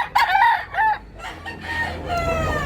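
A seller's rooster at a market in Tabunok, Cebu crows close and loud, a drawn-out cock-a-doodle-doo followed by more crowing and clucks, with faint market noise behind.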